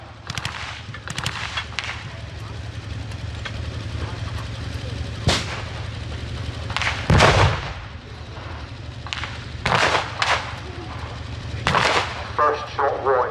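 Tank and artillery gunfire at the Overlord Show WWII reenactment, several loud booming shots spaced several seconds apart over a steady low engine drone, with a commentator talking throughout.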